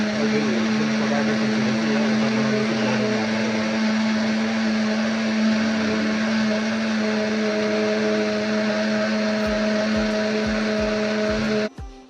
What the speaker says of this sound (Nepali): हामी चाहिँ अचार बनाउनको लागि ब्लाइन्डरमा हालेर सक्दो